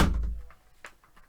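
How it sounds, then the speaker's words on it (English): A door shuts with a single close thud at the start, followed by a faint rattle and quiet room noise. "Pop, shut the door, please."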